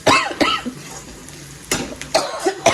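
Several sharp coughs, close and loud, in two bursts separated by a quieter stretch with faint kitchen sounds.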